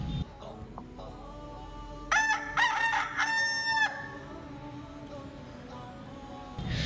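A rooster crows once, loud and close, with a long drawn-out cock-a-doodle-doo over a quiet farmyard background.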